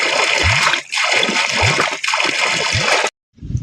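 Water gushes hard from a farm borewell pump outlet in a steady, loud splashing torrent, heard close with a few brief surges before it cuts off near the end.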